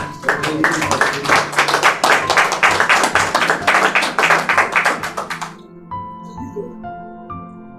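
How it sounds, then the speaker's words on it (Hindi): Congregation at a church sermon claps rhythmically in unison, sharp close hand claps in a steady beat for about five seconds, then stopping as soft keyboard notes continue. "बहुत सारी तालियां उस खुदा के लिए।"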